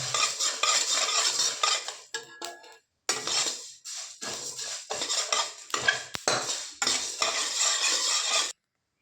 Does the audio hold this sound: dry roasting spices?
yes